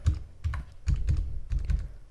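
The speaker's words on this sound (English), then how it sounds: "so type your computer password," Someone types a password on a computer keyboard, quick close clusters of key clicks in short bursts with no talking.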